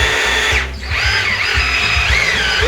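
A partly charged cordless drill drives a crank mechanism upward, its motor whining steadily and loud up close with pitch wavering under load, over a low rhythmic mechanical clatter, with a brief dip near the start before resuming.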